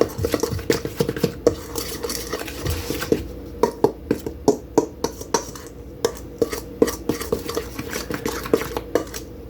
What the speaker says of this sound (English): Gotta get that baking powder mixed in real good